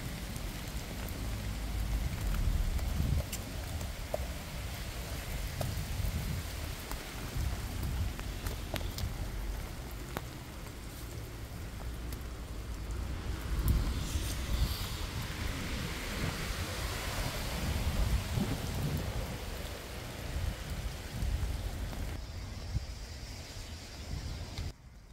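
Steady rain falls outdoors near rubber trees, a continuous dense hiss of drops on surfaces that holds throughout with no speech.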